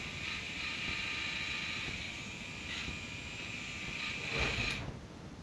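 A small motor drives a K'NEX roller coaster, a faint steady whirring hum that holds for several seconds before easing off near the end, with no talk.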